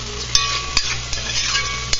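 Salted mushrooms and anchovies fry in a pan with a loud, close sizzle, broken by a few sharp clicks and scrapes from stirring.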